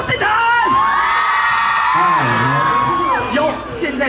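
A live audience at a book launch cheers and whoops to welcome a singer, loud sustained crowd shouting that fills the room with rising and falling high yells.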